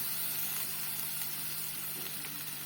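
Red lentils (masoor dal) frying in a pan for a prawn and dal tarka, a steady, even sizzle and hiss running throughout with no talking.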